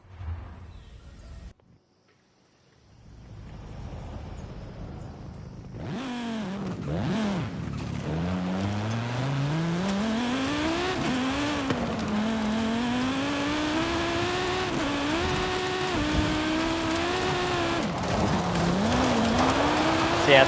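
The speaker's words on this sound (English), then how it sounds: "that is a B-class vehicle that can go 140 miles an hour with full slick tyres" A B-class car on full slick tyres, rated to 140 mph, drives in Forza Horizon 5 on PS5. After a brief quiet start, its engine note rises and revs steadily, loud and continuous, with faint talk underneath.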